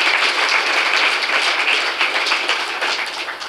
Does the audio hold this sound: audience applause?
yes